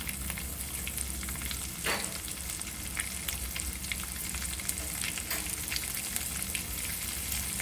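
Mustard seeds, asafoetida and green chillies frying in hot oil, a steady close crackling sizzle with scattered pops and no talk.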